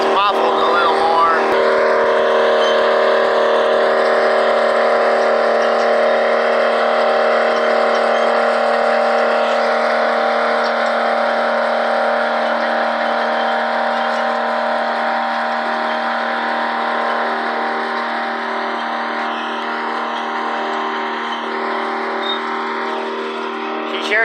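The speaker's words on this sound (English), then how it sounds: "You sure can't imitate the sound of that old Jimmy though, can you?" An old GMC Jimmy truck engine roars loud and steady at close range for the whole stretch, a sustained heavy drone with only slight shifts in pitch, no speech over it.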